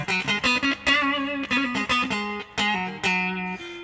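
Electric guitar played through a Texan Twang pedal into a Universal Audio Dream65 amp, twangy bright notes and chords in a quick, punchy phrase, close and clear with no talking.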